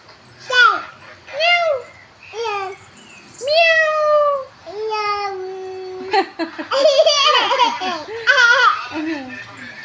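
A voice imitates a cat with a series of drawn-out meows, several in a row, followed by giggling and playful laughter.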